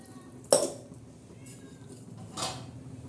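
A chicken pulao mixture with spice paste and water is stirred in a metal pot, a sharp clink of the utensil against the rim followed by quieter scraping and a second softer scrape.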